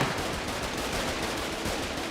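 Rapid video game gunfire crackles in a dense, continuous burst, loud and close with no pauses between shots.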